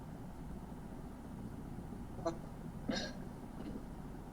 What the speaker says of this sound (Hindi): तो फिर खांसी क्यों आ रही है?